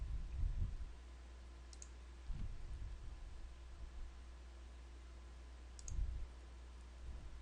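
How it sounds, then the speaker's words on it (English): Computer mouse button clicking at a desk, three soft, brief clicks spaced a couple of seconds apart over a quiet hum. "you can click this button."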